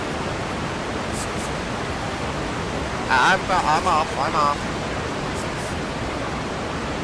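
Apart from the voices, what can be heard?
loud waterfall in the video game Skyrim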